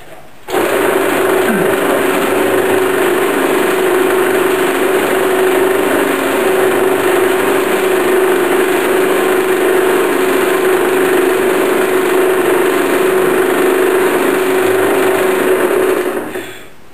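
Steady drill press whine with a constant pitched hum, a center drill starting a hole in a metal bar, running evenly for about fifteen seconds before stopping, close and fairly loud.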